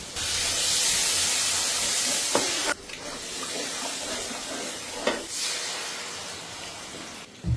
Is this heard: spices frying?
yes